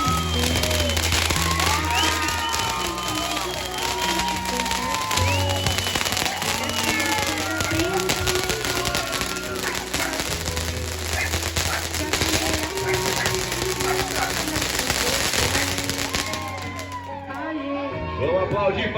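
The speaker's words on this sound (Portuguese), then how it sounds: "Cuidado aí com fogos, meninas!" Fireworks crackle and pop at a street birthday celebration, a continuous loud barrage of bursts mixed with music from a sound truck while people shout and talk over it.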